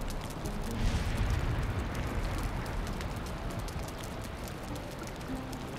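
Steady rain pouring in the survival video game Valheim, a dense continuous hiss of falling drops heard alone without talk.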